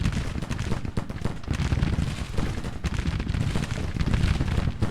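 Continuous musket and artillery volley fire from a Civil War battle in the Grand Tactician strategy game, a dense, steady roar of overlapping gunshots and booms without a break, loud and sustained throughout.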